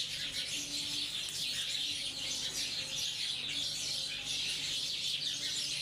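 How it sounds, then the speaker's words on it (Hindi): Morning birds chirp and tweet steadily in the distance outdoors, a faint continuous chorus of overlapping calls with no talking. "तो माशाल्लाह चिड़ियाँ बोल रही हैं।"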